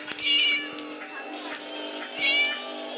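Two clear meows from a cat in the video game Kızgın Öğretmen, one near the start and a second just over two seconds later, both loud and close.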